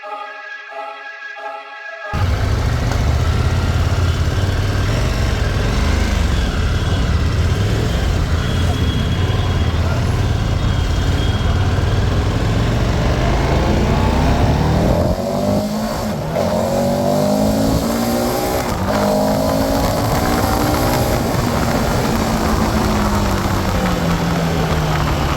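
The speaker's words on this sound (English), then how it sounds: "1301cc engine, which is a 70-degree parallel twin engine which produces around 158 horsepower and 140 newton meters of torque" A KTM 1290 Super Adventure S motorcycle with a 1301cc 70-degree parallel twin roars loudly and continuously, its engine note rising and falling through gear changes as it accelerates, close and steady throughout after a brief quieter opening.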